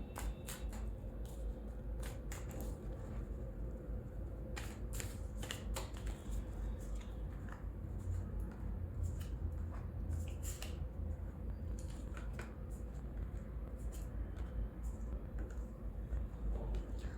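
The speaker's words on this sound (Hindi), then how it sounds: "अब हम निकालते हैं कार्ड एक्वेरियस वालों के लिए।" Tarot cards are shuffled and drawn for a monthly Aquarius reading. Soft flicks and snaps of the cards come in scattered bursts over a low steady background hum, close-up and faint, with no talking.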